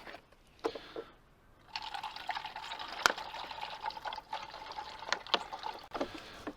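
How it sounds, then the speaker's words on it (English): Water pouring into a plastic bottle to top it up, a bright trickling hiss that starts faintly, then runs steadily with small splashes and knocks. "we're going to top this water up"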